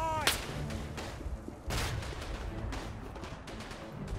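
Grenades burst in the World War I shooter Verdun, with sharp booming blasts at the start and again midway, amid distant gunfire and battlefield noise.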